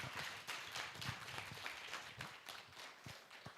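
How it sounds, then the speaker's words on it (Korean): Audience applause welcoming a speaker at an AI and digital education forum: faint, steady clapping from a crowd with distinct hand claps, heard from a distance. "큰 박수로 맞이해 주십시오."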